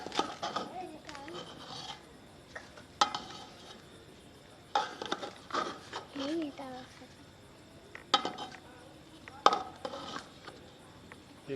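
Jungle vegetable pulao is stirred in a cooking pot, with metal spoon clinks and scrapes against the vessel coming in irregular bursts under steady nearby talking.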